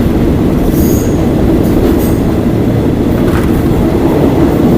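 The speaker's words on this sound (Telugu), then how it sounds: "కానీ ట్రైన్ మాత్రం ఏ బెండింగ్ తిరుగుతుందో తిరుగుతుంది" On Thailand's Death Railway a train rounds bends with a loud, steady roar of wheels and carriages, brief high squeals of wheels on the curve breaking through the rumble.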